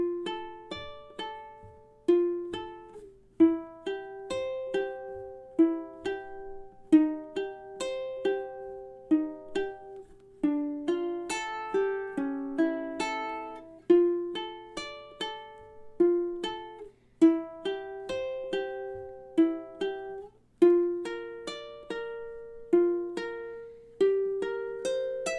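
Fingerpicked ukulele etude melody played solo, a steady stream of bright plucked notes with a three-finger pattern, close and clear, running continuously with no talking.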